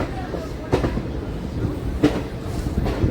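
Train pulling out of Secunderabad Junction railway station: a low rolling rumble with periodic clanks and knocks from the carriages, heard from inside, with faint voices in the background.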